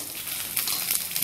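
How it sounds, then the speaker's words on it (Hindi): Onions hit a kadai for dhaba-style kadai paneer, giving a brief burst of bright, hissing sizzle up close. "अब मैं इसमें ये प्याज डालूंगी। इनको भी हमें थोड़ा भून लेना है हल्का सा।"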